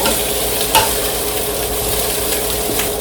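Chicken for sopas sizzles steadily in a hot pan, a loud, continuous frying hiss with stirring scrapes and a brief clatter near the start, close up with no talking.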